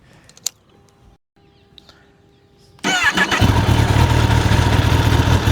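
After a few quiet clicks, a motorcycle starts up abruptly and settles into a loud, steady idle with a throaty stock exhaust burble.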